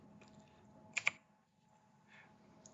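Quiet keyboard typing on a PC, a couple of sharp key clicks near the middle over a low background hum, with faint softer taps around them.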